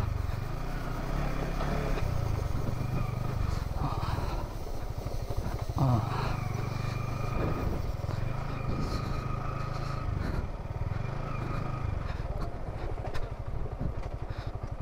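A car descends a rough, damaged mountain road in Mirinja Valley on engine braking, with a steady, loud low engine drone, rattles and clatter throughout.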